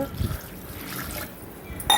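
Water and a blended paste poured from a mixer jar into a pot for crab soup, a soft continuous splashing and trickling pour, close by, with a brief clatter at the end.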